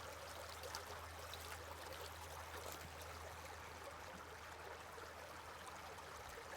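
Water runs steadily through a Royal Manufacturing HighBanker gold sluice, a constant faint rushing and trickling flow over a low hum, with no voices.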